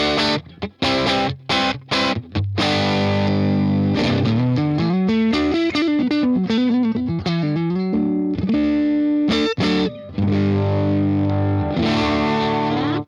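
Distorted electric guitar through a UAFX Ruby amp pedal, playing loud chords and a fast melodic run, thick and saturated with a little shimmer, focused in the mids.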